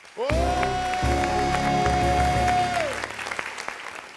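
Audience applause for an Ivorian music figure on a television show, loud and dense beneath a sustained musical tone and rhythmic backing that stop near the end, leaving scattered claps.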